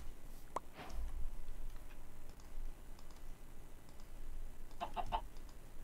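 A Minecraft chicken gives one short cluck early, then a quick run of three clucks near the end, faint and close against quiet game ambience.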